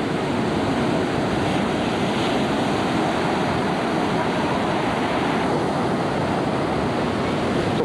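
Ocean surf breaks on the beach at Matinhos and Caiobá in a constant loud wash of roaring water and wind, close and unbroken.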